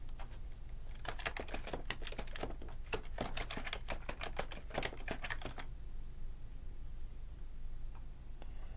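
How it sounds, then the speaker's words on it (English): An address is typed on a computer keyboard: a quick, close burst of soft, irregular key clicks over about five seconds, then quiet room tone. "You can also type in an address."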